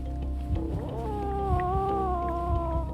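A cat growls at an approaching badger outdoors at night, a low, sustained, wavering growl rising into a drawn-out yowl, close and steady over continuous background noise.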